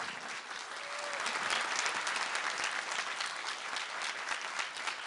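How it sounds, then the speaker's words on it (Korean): Steady audience applause at a youth talk concert fills the space, a dense wash of many hands clapping at an even level throughout. "네, 박수 부탁드립니다."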